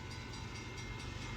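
A passing freight train rumbles by on a rainy day, a steady low mechanical roar heard faintly from a distance with no pause.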